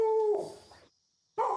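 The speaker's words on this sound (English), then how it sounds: "Did Copper really hear this dog bark" A dog barks in the video game Car Mechanic Simulator 2026, giving a clear, close tonal bark and yelp. A short silence follows before a second bark starts.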